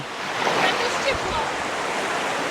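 Continuous rushing wash of Baltic Sea waves on a shore at Liepāja, with a soft breaking swell and faint voices in the background.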